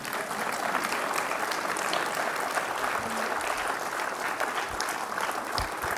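Continuous dense applause from a large audience at a NIMHANS event, steady and even in loudness for the whole stretch, with no pauses.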